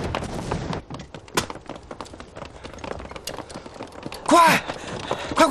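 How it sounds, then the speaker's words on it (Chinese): Sparse, scattered gunshots crack in a WWII battle scene against Japanese forces, sounding thin and intermittent. A brief shouting voice breaks in near the end. "你听，这枪声稀了不少。"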